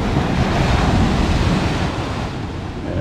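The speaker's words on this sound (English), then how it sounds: "Just walking on those rocks with these waves crashing." Heavy surf crashing against jetty rocks, a loud continuous roar of breaking waves mixed with wind buffeting the microphone, easing slightly toward the end.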